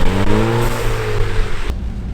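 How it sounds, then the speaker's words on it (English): A Ford Fiesta ST-2 on a test drive after mechanical repairs, its engine droning steadily with a rising pitch, then dropping off abruptly near the end. "we'll take the car for a test drive and see how it actually runs"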